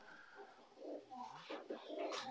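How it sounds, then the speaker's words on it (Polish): Pigeons from a breeding loft coo in soft, rounded low calls, several overlapping phrases rising and falling at close range in a quiet setting with no speech. "No też jest parę gołąbków po niej tutaj"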